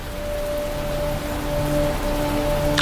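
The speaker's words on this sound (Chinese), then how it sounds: "这雨越下越大了" Heavy rain in a drama scene, a steady broadband wash of falling water with a faint sustained hum beneath it, constant in loudness.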